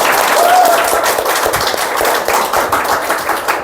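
A church congregation applauds together, a dense burst of clapping that carries strongly across the whole stretch, with a voice briefly heard in the mix.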